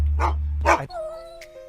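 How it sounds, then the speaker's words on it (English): Two sharp dog barks in quick succession, close and loud, followed by a quieter sustained tone. "Ooh, there's a dog."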